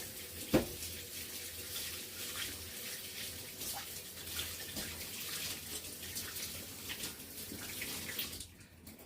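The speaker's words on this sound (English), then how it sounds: "Let me wash my hands." A kitchen tap runs steadily into a sink while hands are washed after decorating a ganache-covered cake, with a continuous water rush and faint splashes close by that cut off abruptly at the end, no talking.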